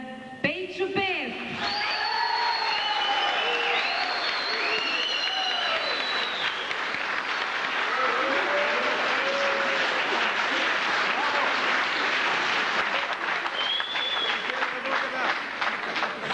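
Concert audience applause in Bulgaria, with loud, dense clapping from a large crowd that continues steadily throughout, while sustained musical tones and a brief whistle or whoop ring over it.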